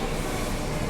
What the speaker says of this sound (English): There's trains in there.